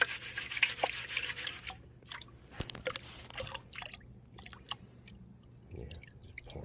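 Water pours and trickles off a gold pan loaded with glittery mica sediment, dripping and splashing close by with scraping rubs, loud at first and then thinning to scattered drips.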